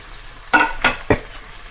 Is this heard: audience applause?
no